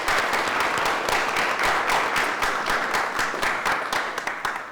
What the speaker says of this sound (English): giving our faculty a big round of applause for this incredible work